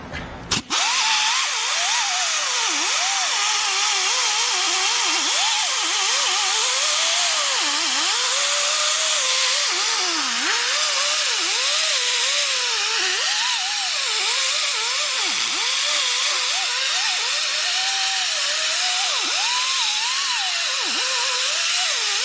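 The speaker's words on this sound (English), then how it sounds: "take a wire wheel such as this, and we'll go around and we'll buff all this up" A power tool spinning a wire wheel grinds steadily against the rusty hub of a Ford Ranger wheel, a loud, continuous whine with wavering pitch as it works around the surface, running alone for over twenty seconds.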